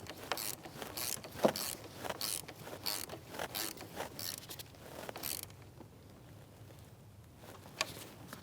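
A 10mm socket wrench snugs an alternator bolt on a 2016-2025 Chevrolet Malibu 1.5L four-cylinder, with a quick series of close ratcheting clicks that stop before a quieter stretch and a couple of faint later clicks.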